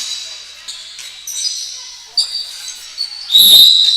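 A referee's whistle shrills during a high school boys basketball game in a gym, amid squeaking sneakers and bouncing ball, with crowd noise and talk around it.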